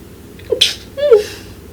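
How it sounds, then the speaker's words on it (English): A single close, sharp sneeze with a quick inhaled buildup and a breathy burst, followed by a short voiced exhale, over a quiet background. "I can't believe a sneeze snuck up on me like that"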